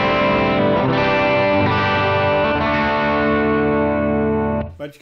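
A 1981 Ibanez Musician MC 550 electric guitar rings out a distorted, chorus-tinged chord that sustains smoothly for over four seconds, bright and full, before being abruptly muted.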